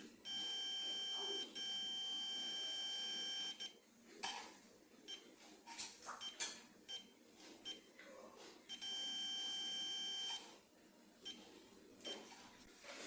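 Toyota Vios 2008-2013 head unit with a faulty volume knob emitting long steady electronic beep tones in bursts as the knob is turned, interspersed with clicks and small handling knocks, close and fairly loud.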